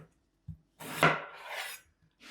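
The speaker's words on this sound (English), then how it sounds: "this knife will go right through this potato without any problem" A sharp Ninja NeverDull kitchen knife slices through a raw potato: a soft tap, then a quick scraping cut lasting about a second, close and fairly quiet, with a light tap after.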